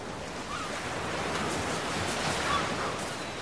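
Ocean surf in the video game Ark: Survival washes in as a steady, close, unbroken roar of breaking waves, swelling slightly near the end, with no talking.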